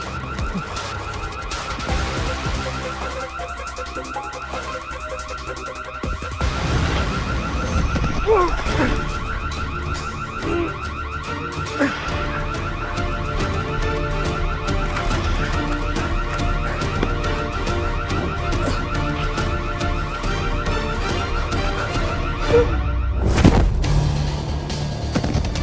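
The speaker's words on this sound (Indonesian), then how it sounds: "Suara alarm." A car alarm goes off nearby, its looping electronic tones running continuously and loudly over a busy background, with people talking at times.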